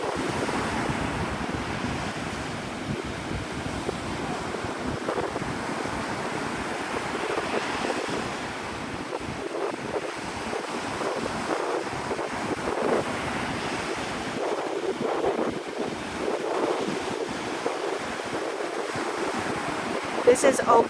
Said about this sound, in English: This is Opal Beach.